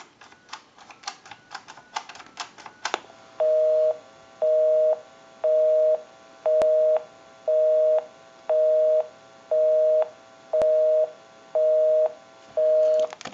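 A busy signal on a Western Electric 2554 telephone: steady on-off tones pulsing in an even rhythm, ten beeps, preceded by a few seconds of clicking and tapping.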